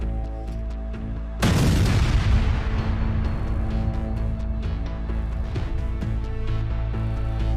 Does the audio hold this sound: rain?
no